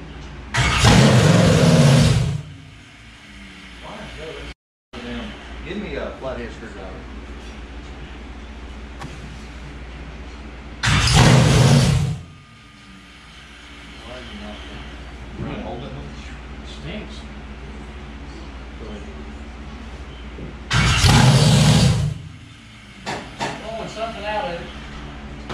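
A 602 crate engine is cranked and fires in three loud bursts, each roughly two seconds long, with quieter shop noise and people talking in the gaps between attempts.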